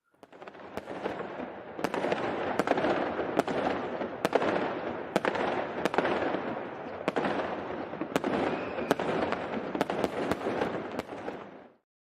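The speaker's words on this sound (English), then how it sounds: "you get fireworks too" Fireworks fill the air with continuous crackling and hissing, punctuated by sharp bangs every second or so, steady and fairly loud throughout with no voices.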